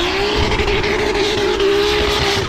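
Drift cars at the 2022 French drift championship final at the Val de Vienne circuit make a loud, sustained engine roar with a steady high whine and rough tire rumble throughout.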